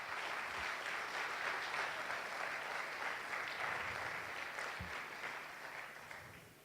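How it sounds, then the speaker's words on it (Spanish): Church congregation applauding during a sermon, a steady wash of clapping that holds for several seconds and fades slightly at the end, fairly distant and soft. "Dale un fuerte aplauso a Él,"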